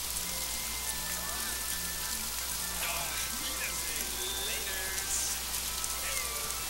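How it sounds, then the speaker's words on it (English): Rainstorm in an F1 Race Stars racing video game, a constant hiss of rain filling the scene with faint engine tones and game effects beneath. "Dang it, not a rainstorm"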